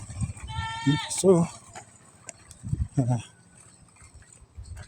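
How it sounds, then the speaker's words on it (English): A goat bleating nearby during an outing, a wavering tremulous call followed by shorter bleats, mixed with a person talking and outdoor background noise. "There's a goat here making sounds."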